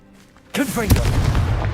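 A Confringo blasting spell goes off in Hogwarts Legacy as a sudden loud explosive burst, followed by a rumbling, crackling tail that stays dense and booming to the end.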